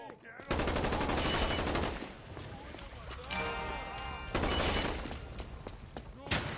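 Video game gunfire rattles in rapid bursts, breaking off briefly and then resuming, with voices talking over parts of the shooting.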